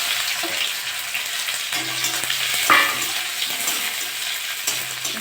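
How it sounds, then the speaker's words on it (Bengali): Chopped onion fries in a pan with garlic, giving a steady close sizzle and hiss broken by a brief clatter of stirring. "একটু ভাজা ভাজা করে দেবো পেঁয়াজটা"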